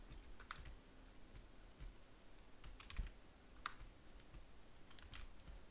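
Keys clatter in quick, uneven bursts on a computer keyboard during a Taming.io game session, a faint, close clicking rhythm with no talk.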